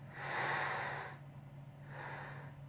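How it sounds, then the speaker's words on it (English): Two long nasal sniffs over a glass of Flying Dog Snake Dog IPA beer, the first deeper and louder, the second softer, close to the microphone with no talking. "let's have a little sniff."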